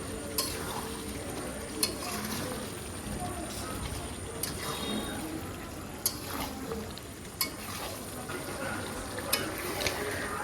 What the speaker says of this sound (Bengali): মাংসটা ঢেলে দেওয়ার পরে এখন আমি এটাকে খুব ভালোভাবে নেড়ে চেড়ে নেব